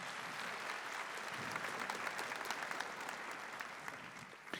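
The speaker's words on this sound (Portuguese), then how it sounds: "Se você crê, aplauda esse céu que foi preparado para nós" Catholic Mass congregation applauding during a homily: a broad, continuous wash of many hands clapping, steady and fairly faint as if heard from across the church, with no pause throughout.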